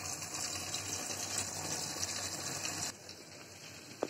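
Cold water runs from a tap over boiled pasta, a steady gushing rush that lasts about three seconds before cutting off abruptly, leaving a quieter background and a small knock at the end.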